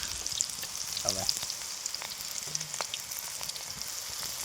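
Pakoras and gota, fried in a village farm setting, crackle and sizzle steadily in hot oil, a dense hiss close up with occasional stirring clinks and no talking.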